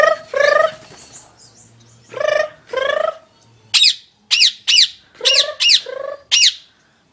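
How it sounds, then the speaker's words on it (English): Birds squawk and call outdoors, loud and close, in a string of about ten sharp bursts: a few harsher squawks first, then quicker bright chirping calls, some in close pairs, with short gaps of quiet between them. "It's one of those birds up there."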